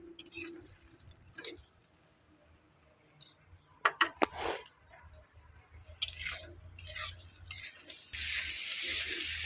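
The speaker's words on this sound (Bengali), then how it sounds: "এটাকে ভালো করে কষিয়ে নিতে হবে, না হলে কিন্তু গন্ধ করবে।" Masala of green chilli paste is sautéed and stirred in a pan, with scattered scraping, wet squishing and spoon clinks, then a bright burst of sizzling near the end, all fairly quiet.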